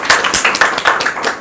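A short burst of applause from a small crowd at a 2022 Korean presidential election debate forum, several people clapping quickly and unevenly for a moment.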